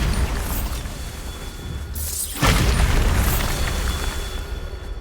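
The Bombarda spell goes off in Hogwarts Legacy as a single loud, booming explosion that bursts in suddenly midway and rumbles on over steady background noise.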